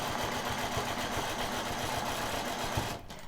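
A sewing machine stitches a quilt along a marked line, running steadily with a fast, even mechanical pulse that stays close and loud, then cuts out just before the end.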